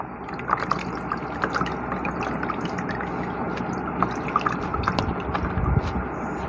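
Fresh coriander and mint leaves are swished and rinsed in a bowl of water, giving close, irregular splashes, drips and trickles with a few sharper sloshes.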